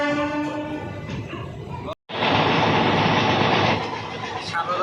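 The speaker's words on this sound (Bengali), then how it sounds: "অমরাবতী এক্সপ্রেস চলছে" The Amaravati Express passenger train rolls slowly with a continuous rumble and clatter of wheels on rails. A train horn sounds early on, then a brief gap, then louder running noise, with voices faintly present.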